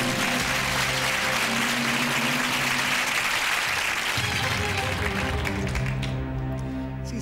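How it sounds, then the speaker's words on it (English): A television quiz studio audience applauds after a contestant wins £2,000 on Who Wants to Be a Millionaire, a steady full crowd of clapping that thins slightly toward the end. "See, he's clapping away up there, your brother."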